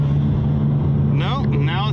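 Ecoboost Mustang engine idling steadily in drag strip mode after a valve and turbo cleaner treatment, a strong low hum throughout with a whistling turbo-like sweep rising and falling near the end.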